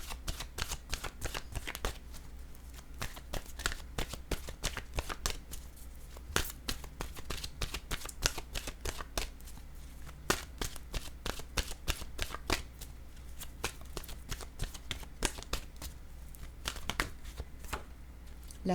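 Oracle cards are shuffled steadily by hand for the whole stretch, a dense run of quick papery riffles and flicks close to the listener with no talking.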